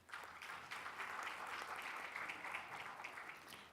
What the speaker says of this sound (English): Please, let's welcome her with a clap.